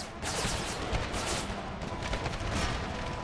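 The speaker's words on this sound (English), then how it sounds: "There goes some artillery." Artillery fire in an Empire: Total War mod battle, a dense, continuous roar of distant cannon booms and musketry rolling together without pause.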